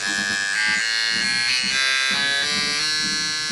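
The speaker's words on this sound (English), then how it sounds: "It's a big spark, making some noise." A Top Fuel Harley ignition with a Dyna ARC-TF unit fires on a simulator. It gives a loud, continuous, harsh electric buzz that holds steady at close range, with slight pulsing and no talk.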